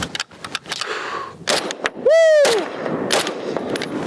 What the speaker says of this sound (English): We're just shooting a target like 10 yards, 7 yards out on cardboard